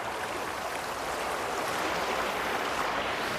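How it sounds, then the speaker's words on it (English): River water flowing steadily near Ayr in Scotland, a continuous broadband rush with no pauses, fairly close and even. "This is a river."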